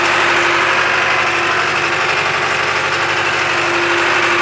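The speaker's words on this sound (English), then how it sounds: "We got us a tractor." A John Deere 5410 tractor engine idles nearby, a loud, steady diesel rumble with a faint rhythmic knock and no other sounds.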